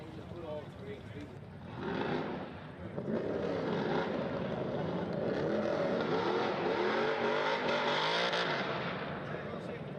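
A race car hot-laps Hudson Speedway, its engine rising and swelling as it accelerates past, then holding a loud sustained roar, heard mid-distance under an announcer's steady commentary.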